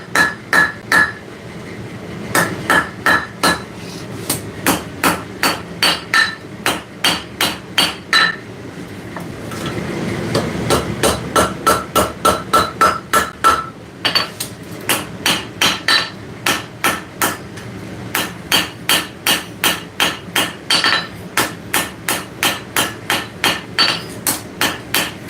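Hammer forging the spine of a steel blade on an anvil, loud ringing metallic strikes in long rapid rhythmic runs with brief pauses between series, close and clear with no talk.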